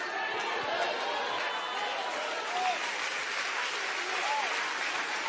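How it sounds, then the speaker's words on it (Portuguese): A church congregation claps together in sustained, dense applause during worship, steady and fairly loud throughout, with crowd voices mixed in underneath. "Misture essas palmas com glória a Deus e aleluia."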